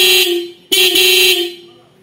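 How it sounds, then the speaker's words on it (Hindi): Two loud, close blasts of a motorcycle horn fitted with a 4-pin relay, a brief honk followed quickly by a longer one, with no talking. "यह है हॉर्न का लाउड साउंड"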